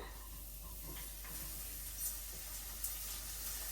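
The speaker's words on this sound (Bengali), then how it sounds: "এখন তেল দিয়ে দিই দিয়ে দিলাম পেঁয়াজ কুচিয়ে" Chopped onion frying in hot oil in a home kitchen, a soft, steady sizzle and hiss with a couple of faint crackles, quiet and close.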